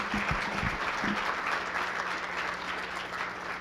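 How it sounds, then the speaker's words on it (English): Steady applause from a conference audience thanking federal partner panelists at a lunch plenary, sustained and even, with a few low thumps and a faint hum at the start. "Please join me in giving them a round of applause"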